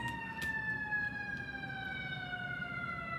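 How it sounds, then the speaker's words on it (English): A siren wails steadily in the distance, a long sustained tone drifting slowly in pitch over a low background rumble. "sorry guys, the sirens"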